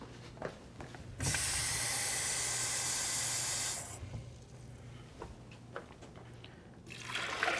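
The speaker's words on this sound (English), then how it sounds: "We're going to put in a cup of water." A cup of water poured over cashew nuts in a kitchen, a bright rushing splash lasting close to three seconds, flanked by quieter clinks and handling noises before and after.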